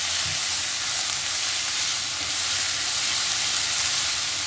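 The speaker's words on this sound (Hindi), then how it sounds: "ग्रेटेड इनको हल्का सा फ्राई करेंगे" Grated onions frying lightly in a pan, a dense, steady sizzle that runs loud and unbroken from start to finish, with no voices over it.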